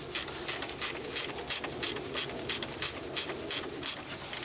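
A ratchet wrench tightens a bolt on a Mazda Miata alternator while the belt is being replaced, giving about a dozen crisp, evenly spaced clicks close up against a quiet background.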